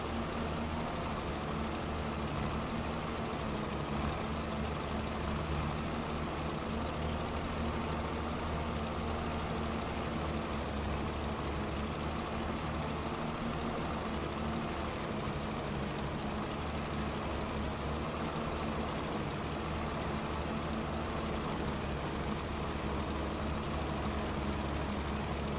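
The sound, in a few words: vehicle engine running in Farming Simulator 25 video game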